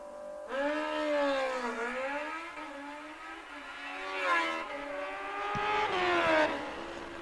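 A Kawasaki ZX-14 motorcycle makes a drag racing run, its engine screaming up through rising pitch sweeps with gear changes, loud and steady, then fading as it pulls away down the strip.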